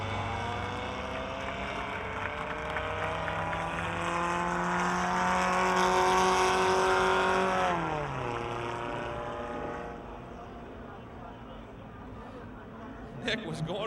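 Race cars roar around the Pennsylvania Motor Speedway track near Pittsburgh, with a loud engine drone sweeping down in pitch as a car passes close by, under a voice talking.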